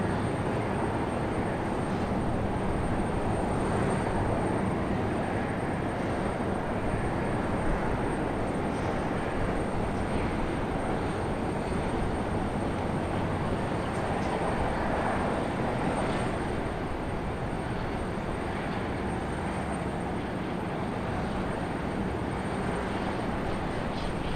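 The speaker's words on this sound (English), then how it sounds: "JetBlue gonna float it on in. Nice smooth touchdown for JetBlue." A JetBlue airliner lands at Raleigh-Durham airport as a steady, broad engine roar with wind noise, heard at a distance and holding at an even level throughout.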